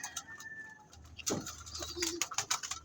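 Racing pigeons in a loft give soft, low cooing calls amid scattered rustles and a few brief wing flutters, fairly close and quiet.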